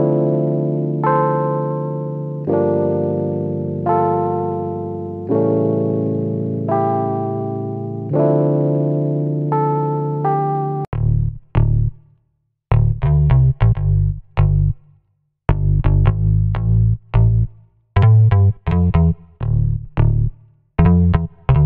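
A lo-fi rendition of a song: sustained warm synth chords for the first half, then punchy chopped notes with a beat kicking in, loud and up front with no voices.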